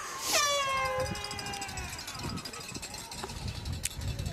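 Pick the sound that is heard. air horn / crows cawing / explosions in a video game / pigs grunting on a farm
air horn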